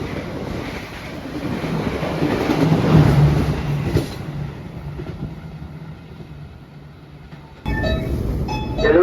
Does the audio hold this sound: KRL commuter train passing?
yes